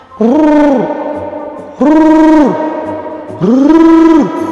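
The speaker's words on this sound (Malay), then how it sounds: "first time aku dengar bunyi suara burung hantu yang macam ni" Three long, tonal hoots with a rising then falling pitch, evenly spaced and fairly loud, each lasting over a second with a slight echo.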